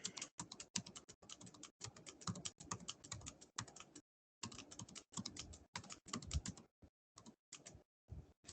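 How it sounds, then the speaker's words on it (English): Numbers being typed on a computer keyboard, a quick run of crisp, close key taps in bursts with a brief pause, then a few scattered final presses. "I'm just going to type in some numbers."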